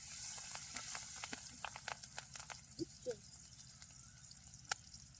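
Pangas fish frying in hot oil with onion and green chili, a soft steady sizzle with scattered sharp pops and crackles, faint and close.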